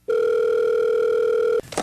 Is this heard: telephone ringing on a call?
yes